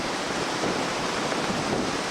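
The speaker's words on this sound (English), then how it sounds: "it's just too windy to do anything" Strong wind at the seashore, a steady loud roar of gusts buffeting the microphone, mixed with surf noise, constant with no pauses and no voices.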